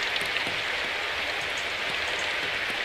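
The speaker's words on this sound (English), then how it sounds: "The sound of the rain hitting the umbrella was different than on the pavement." Soft rain patters steadily on an umbrella in the video game Symphonic Rain, a dense, even hiss of drops with no speech and no change in intensity throughout.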